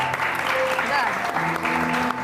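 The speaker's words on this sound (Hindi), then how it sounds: "बहुत सारी तालियां इनके लिए" An audience at a television show event claps in a steady burst of applause, with talking and other voices mixed in over it.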